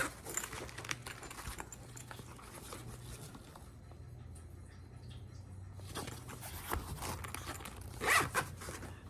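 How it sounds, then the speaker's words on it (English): A zipper on a tool bag is pulled open in a few short raspy strokes, close up and fairly quiet, with soft handling noises between pulls. "It has the zipper that opens up."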